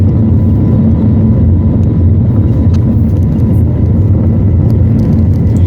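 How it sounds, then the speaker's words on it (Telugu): A loud, steady jet engine roar with deep rumble, continuous and close, as an airplane powers down the runway at Hyderabad airport for takeoff. "టేకాఫ్ కోసం రన్ అవుతా ఉంది"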